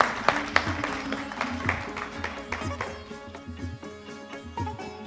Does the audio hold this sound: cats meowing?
no